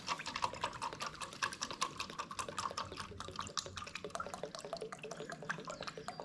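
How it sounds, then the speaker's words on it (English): Rapid, irregular small drips and taps of liquid, close and quiet, forming a dense pattering texture throughout. "And of course we're dripping it everywhere, which is awesome."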